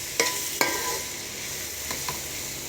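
Home-pounded ginger garlic paste frying in a pan for chicken curry gives a soft, steady sizzle, broken by a few sharp scraping stirs near the start and a couple more later.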